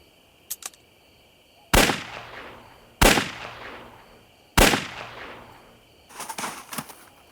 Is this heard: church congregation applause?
no